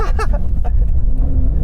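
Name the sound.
Porsche 911 Dakar driving off-road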